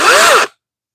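A short mechanical click and whir from resetting the guard on a DeWalt battery chainsaw, one brief sound up close and loud, cut off abruptly into silence.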